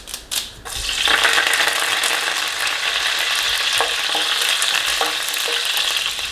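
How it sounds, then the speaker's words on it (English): A handful of curry leaves drops into hot oil in a saucepan, bursting into loud, close, continuous sizzling and crackling after a brief clatter, with no voices. "And now here goes handful of curry leaves."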